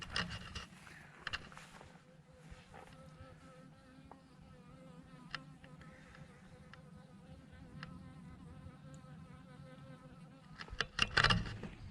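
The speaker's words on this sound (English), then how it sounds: "Bees are already over here inspecting the truck." Honeybees drone steadily throughout in a desert winter camp beside a truck, a soft continuous hum with a louder knock or rustle near the end.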